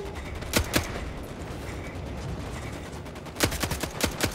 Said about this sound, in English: Damn, I'm already here shooting.